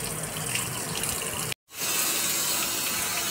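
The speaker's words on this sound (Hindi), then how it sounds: "पूरा घर लगभग धुल गया है, अभी बालकनी तक रह गया है" Water splashes and gushes steadily while a house floor is washed, a close, continuous wash that cuts out briefly to silence and then resumes.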